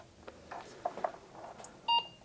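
A decades-old home computer gives a single short, clear beep near the end, after faint clicks and handling noises in a quiet room.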